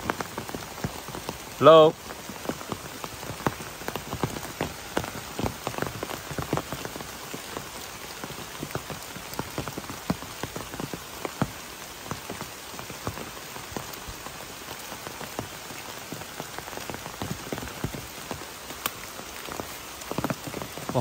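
Heavy rain pouring steadily onto surfaces outdoors, a dense continuous patter with scattered sharper drops, close and loud throughout; a voice briefly calls out once near the start.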